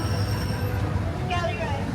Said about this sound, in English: Please wait, our train is still in motion.